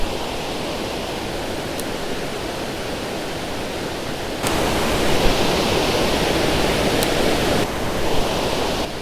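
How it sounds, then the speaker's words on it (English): Water thunders over a spillway falls at a fishing spot in a constant, loud, broadband roar that swells slightly partway through, with no voices. "it was something else how loud the falls are, and they're running pretty good today."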